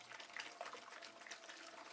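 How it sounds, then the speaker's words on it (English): Water poured into a bowl and squeezed and mixed by hand into bread dough, with soft, continuous splashing and wet squelching that stays close, steady and fairly quiet throughout. "pour in the rest of the water, and then we're just kind of squeeze it and mix it around"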